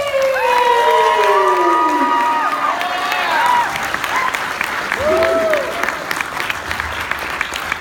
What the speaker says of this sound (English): a big round of applause for Mitch Pileggi!